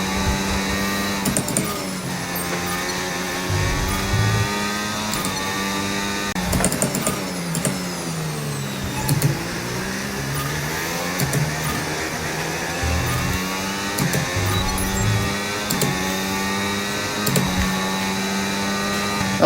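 An F1 car engine screams through a lap in F1 25, the tone rising and falling steadily with gear changes, loud and continuous throughout.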